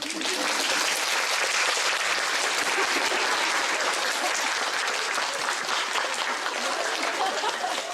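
A theater audience at a musical's post-show talk breaks into loud, continuous applause, dense clapping sustained evenly for the whole stretch.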